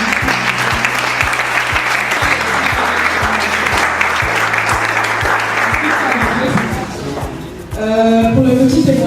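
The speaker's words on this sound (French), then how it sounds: "S'il vous plaît, veuillez encore acclamer." Loud, sustained applause from a conference audience at a French-language entrepreneurship event review, steady dense clapping for most of the span, thinning briefly before a voice speaks over the hall at the end.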